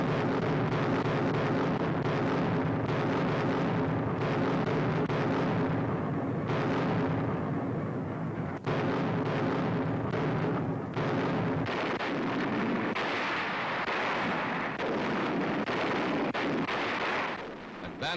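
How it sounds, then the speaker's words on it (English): A heavy naval artillery barrage during a night assault on New Guinea, a continuous rumbling roar of overlapping blasts and booms, loud and dense throughout with no speech. "The assault begins at night with a terrific naval barrage."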